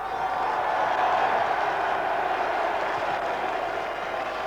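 A capacity crowd of 8,000 roars its welcome as Sutton United take the field for a football match against Coventry, a dense, steady wash of cheering and applause sustained throughout.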